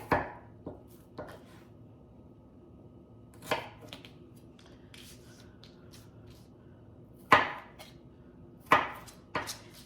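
Knife chopping potatoes into fries on a board, sparse sharp single cuts spaced irregularly, close and clear against a quiet background.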